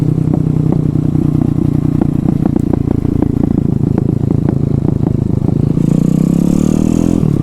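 A Honda Grom fitted with a swapped 212cc Zongshen engine accelerates close by. The loud, steady single-cylinder thrum rises in pitch with a clattering mechanical edge, then revs higher near the end.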